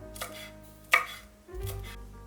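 Knife chopping cilantro into sections on a board, a few separate sharp cuts spaced through two seconds, close and distinct with quiet between strokes.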